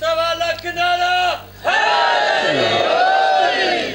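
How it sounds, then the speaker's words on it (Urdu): A large crowd at a Shia religious majlis roars a loud devotional slogan in unison, one sustained group shout that stops abruptly and then swells again into a second massed chant, close and loud with no solo speech. "محمد کی شان کے لیے ایک بلند نعرہ لگائے"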